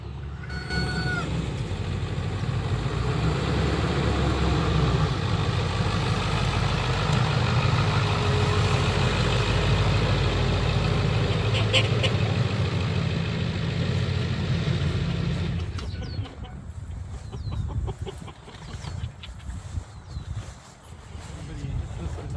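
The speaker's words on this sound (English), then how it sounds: "Ranger Rob's coming here with his truck" A truck drives in on a farm with meat birds, a steady loud engine and road rumble lasting about fifteen seconds before cutting off, leaving quieter ambient noise with a few faint knocks.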